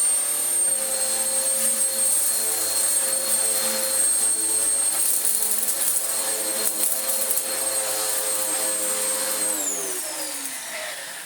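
A Vax Power U84 vacuum cleaner with a newly refitted belt runs close and loud with its brush roll spinning: a steady, whining motor hum that holds for about ten seconds, then its pitch drops as the machine begins to wind down.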